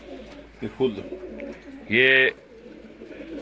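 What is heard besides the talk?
Jugnu breed pigeon cooing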